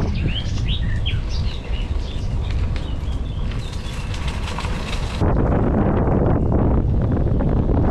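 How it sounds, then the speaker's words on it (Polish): Birds chirp and sing outdoors at a vineyard, their calls fairly faint and scattered over heavy wind rumble that grows louder partway through, with no talking. "ptaki śpiewają."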